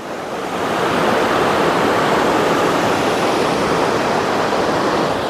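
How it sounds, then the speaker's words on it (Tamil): Roadside waterfall beside the Meghamalai highway, a steady, loud, broadband roar of falling water that fades in over the first second and then holds constant with no voices. "ஸோ நம்ம ஹைவேஸில் அடுத்த ஒரு அருவி வந்து பார்க்குறோம்."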